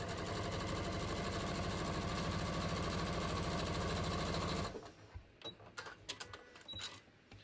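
A sewing machine runs steadily at speed while stitching jeans fabric, a loud even mechanical whir that stops abruptly, followed by quieter clicks and handling noises.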